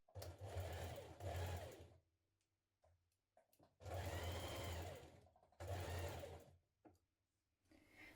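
A sewing machine stitches a sleeve into the armhole of a nightgown, whirring steadily in four close runs with quiet pauses between them.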